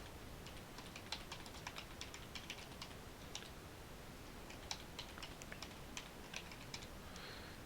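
Fingers tap out a command on a computer keyboard, a steady run of light, close keystrokes over a faint hiss, with no talking.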